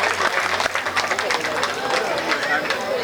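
Applause and clapping from a crowd of women at a live comedy-style performance, as dense, steady clapping mixed with crowd noise and murmur.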